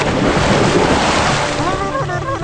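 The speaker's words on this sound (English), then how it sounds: "Soon they fell thousands of feet into a raging river." A rushing, roaring wash of turbulent water as a raging river swallows a fall, loud and continuous for a couple of seconds, with a voice rising over it near the end.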